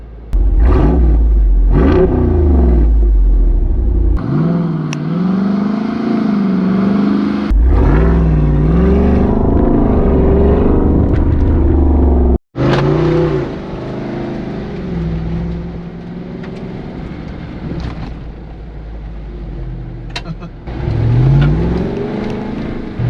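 A Jeep Wrangler 392 V8 driving off-road at higher speed, its loud engine revving and surging through gear changes, with a brief cut midway.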